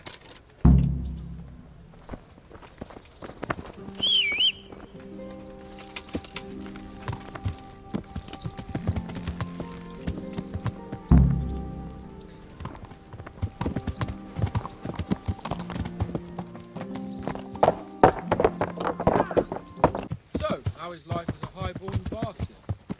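Steady clip-clop of horse hooves trotting along in Kingdom Come: Deliverance, with occasional snorts and a musical score beneath, plus some talk mixed in.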